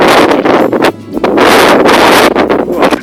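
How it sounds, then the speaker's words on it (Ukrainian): Strong, steady wind on a mountain ridge at Pikui buffeting close to the microphone, loud and continuous with a brief lull partway through. "Вітер тут."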